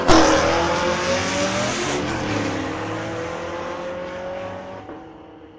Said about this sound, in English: Now a Chevy matchup. Old versus new Camaro.